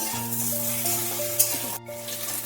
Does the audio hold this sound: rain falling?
no